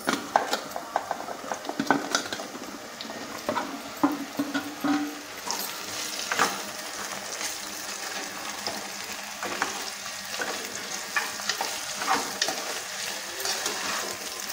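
Raw banana pieces frying in a pan with ginger garlic paste, a steady close sizzle with intermittent scraping and clinking from stirring, continuous throughout.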